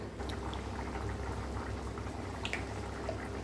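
A pot of egg and drumstick curry bubbles and simmers steadily, with soft popping and gurgling close by and a low hum beneath, and no speech.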